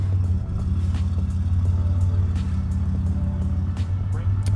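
A 1986 Buick Grand National engine with exhaust cutout rumbles deep and steady close by as it is put into drive, holding a low idle-like drone with faint ticks above it.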